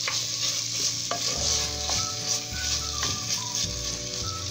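Chopped beef fries in a pan with a seasoning base. A constant sizzle runs under repeated scraping strokes of a spoon stirring the meat.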